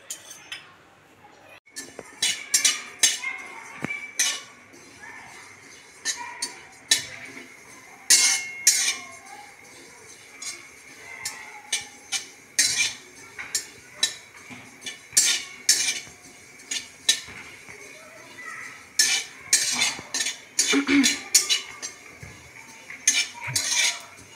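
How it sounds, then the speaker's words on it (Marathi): Ajwain seeds dry-roasting in a pan for a thalipeeth flour mix, with repeated metallic scrapes and clinks of a spoon stirring, close and irregular over a soft background. "आता ओवा भाजायचा आहे"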